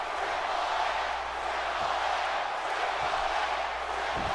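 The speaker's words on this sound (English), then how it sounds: "Crowd screaming Triple H." A wrestling video game crowd roars in a continuous loud wash of arena noise, with occasional thumps beneath and no clear individual chant.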